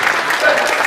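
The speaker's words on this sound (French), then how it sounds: "Et un tonnerre d'applaudissements pour eux." Dense, continuous applause from a crowd, loud and steady throughout, with a few voices mixed in.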